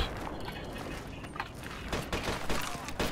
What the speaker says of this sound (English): it seems like LMG fire